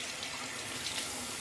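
A bathroom tap runs steadily into a sink, a close, even hiss of flowing water with no breaks and no voices.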